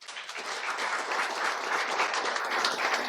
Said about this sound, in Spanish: le brindamos un reconocimiento a través de un aplauso